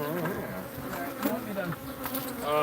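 Dense buzzing of Africanized honeybees at a hive, a continuous close drone with individual bees whirring past, loud and alone without talk.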